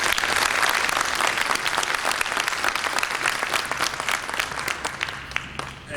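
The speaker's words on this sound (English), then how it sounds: "let's give all 5 softball players a round of applause" A crowd at a high school signing day ceremony gives five softball players a round of applause, a full, steady roar of clapping that tapers slightly toward the end.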